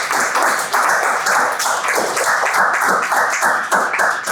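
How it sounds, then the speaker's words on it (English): A room of attendees claps for Lieutenant Colonel Iwicki after a talk on intelligence operations, dense steady hand claps filling the space at close range for the whole stretch with no one speaking. "let's give Lieutenant Colonel Iwicki a round of applause"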